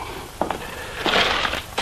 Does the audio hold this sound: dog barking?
no